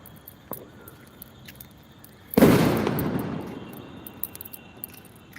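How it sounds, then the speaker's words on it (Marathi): A single Diwali firecracker bursts outside with a loud, sharp crack that decays slowly into a rumbling tail, set against quieter background noise and a few small distant pops. "फटाक्यांचा आवाज येतोय भरपूर"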